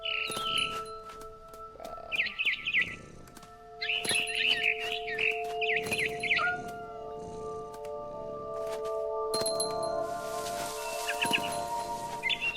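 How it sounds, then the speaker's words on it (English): A barn swallow chirps in a video game, giving clusters of quick, bright chirps that repeat at short intervals over sustained musical tones, fairly close and moderately loud. "Then I heard chirping outside my window."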